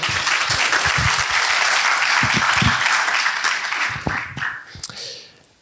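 Applause from a conference audience on corporate skills-based volunteering, thick clapping that thins into scattered claps and fades out, with a voice breaking in near the end.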